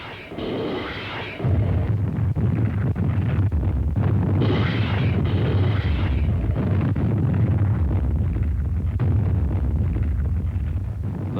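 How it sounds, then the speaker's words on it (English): Rocket ships bombard the invasion beaches at Biak in World War II, a continuous heavy roar of blasts and rumbling bursts with wind-like noise, loud and close throughout, with no speech. "Just before the landing, the rocket ships went to work"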